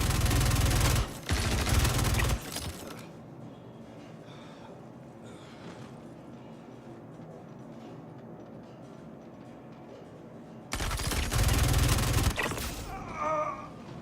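Video game gunfire from Star Citizen or Stoneshard comes in two loud, rapid bursts, one at the start and one near the end, with quieter game ambience in between.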